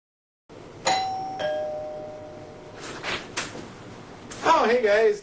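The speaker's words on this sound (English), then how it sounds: "That was the doorbell that we just heard," A doorbell chimes twice at a house door, two clear ringing tones followed by door sounds and a person speaking.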